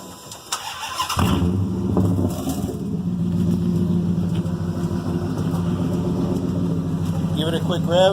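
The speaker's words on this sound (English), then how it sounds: "Go ahead and start it up" A car with its exhaust muffler removed cranks and fires up on a rainy day, settling into a loud, steady, raspy idle with a quick rev, while people talk in the background.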